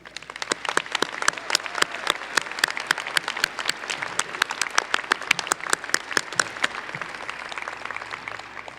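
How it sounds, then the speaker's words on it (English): An audience at a Cleveland State University commencement applauds Mandel Honors College graduates, with steady, moderately sparse clapping from a crowd that carries on evenly and without voices. "I would invite everyone else to join me in giving them a round of applause"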